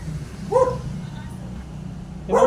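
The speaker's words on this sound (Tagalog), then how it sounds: "may mga aso" Two short dog barks, one early and one near the end, cutting through steady outdoor background noise, fairly close.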